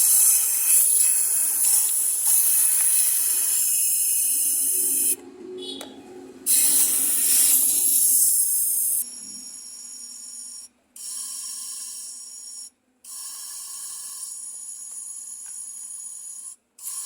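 Compressed air hisses loudly and steadily into the oil gauge opening of a Hero Passion Pro motorcycle engine during an oil change, cutting off briefly a few times before resuming, with no talk.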